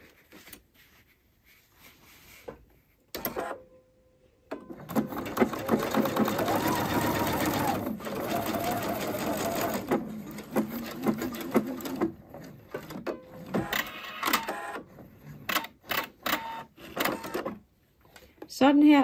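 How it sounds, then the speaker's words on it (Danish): A sewing machine stitches across the ends of a fabric strip, giving a fast, even whirring run of several seconds between short bursts and pauses, close and clear, with a person speaking at points. "Og så skal jeg sy den i hver ende med 1 cm sømmerum."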